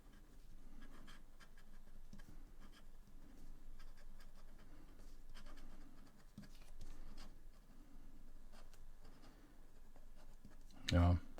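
A LAMY AL-star fountain pen with a medium nib scratches across paper while writing upside down, giving a steady run of short, faint nib strokes with a voice talking softly over them.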